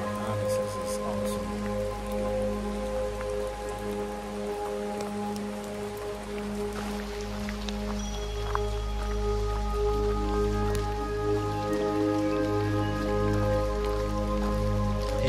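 Light rain patters steadily on foliage along the Manoa Falls trail on Oahu, Hawaii, a soft continuous wash with a low rumbling background throughout.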